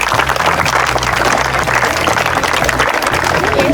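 A crowd claps steadily at a stage magic show held at a college, continuous loud applause throughout with a low hum of music or amplification beneath.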